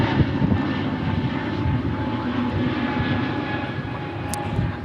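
An Avianca Airbus A320neo jet takes off, a loud, steady engine roar that holds at a constant level throughout, heard alone without talk.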